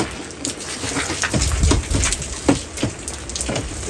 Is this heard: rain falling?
yes